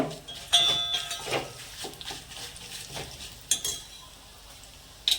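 Mustard seeds, split dal and cumin sizzle in hot oil in a pan, a soft crackling bed broken by metallic clinks and scrapes of a spoon against the vessel.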